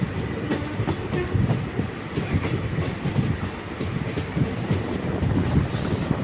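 A train rolls along rails during a rainy journey toward Alappuzha, with a steady loud rumble and rhythmic clickety-clack of wheels over rail joints throughout, close and continuous, with no talking.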